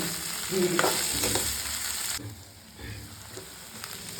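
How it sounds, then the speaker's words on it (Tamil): Potatoes fry in hot oil with a close, busy sizzle and some stirring, strong at first and then dropping to a softer crackle. "நல்லா எண்ணெய் காய்ஞ்சோடனே உருளைக்கிழங்கு அரிசியில் உருளைக்கிழங்கு போட்டு அது கொஞ்ச நேரம் லைட்டாக டூ மினிட்ஸ் வதக்கிட்டு"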